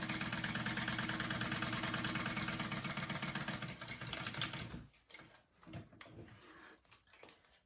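A sewing machine top stitches a backpack pocket with a steady, rapid whirring clatter for about five seconds, then stops, leaving faint handling noises.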